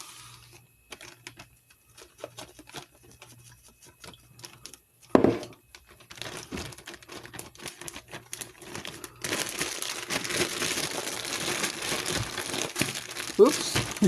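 A plastic bag crinkles and rustles up close as fried chicken wings are shaken in hot sauce, with scattered rustles first and then denser, louder crumpling later.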